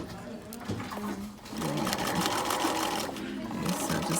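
A sewing machine stitching a pillow runs in short bursts, whirring up steadily, pausing briefly, then running again as it puts in a back stitch, close and moderately loud, with a voice speaking briefly over it.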